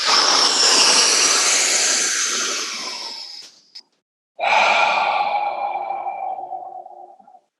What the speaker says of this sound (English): Exhale as you bend.